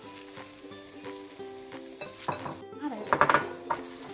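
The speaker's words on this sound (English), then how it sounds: "now we're going to add the spinach" Fresh spinach tumbles into a hot pan of vegan gnocchi scramble and gets stirred with a spatula, scraping and clattering against the pan over a steady sizzle, with a brief spoken remark near the end.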